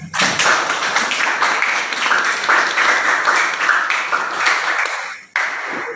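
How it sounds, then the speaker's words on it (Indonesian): Sustained applause from a classroom group praising a student for a correct physics answer, steady dense clapping for about five seconds that cuts off briefly near the end and then resumes. "Beri aplaus untuk Mas Yoga."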